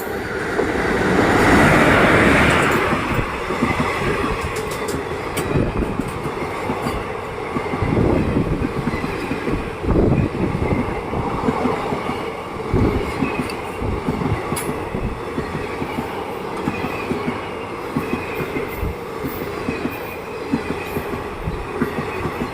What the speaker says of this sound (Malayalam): ഇതാ വന്നുകൊണ്ട് നിൽക്കുന്നത് 12670 എന്ന ട്രെയിൻ നമ്പറിൽ സർവീസ് നടത്തുന്ന KSR ബംഗളൂരു എറണാകുളം ഇൻ്റർസിറ്റി ട്രെയിനാണ്